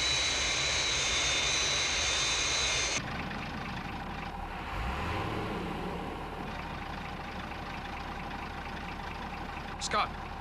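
A Fireflash airliner from the Thunderbirds series drones steadily on final approach, a loud broadband engine roar that drops abruptly in level partway through and continues as a lower, quieter hum, with a brief rising whine near the end.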